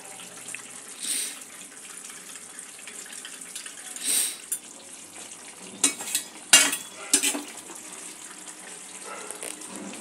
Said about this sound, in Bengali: অল্প একটু জল দিয়ে একটা ব্যাটার তৈরি করে নেব।